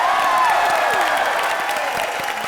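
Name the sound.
audience applause welcoming guests on stage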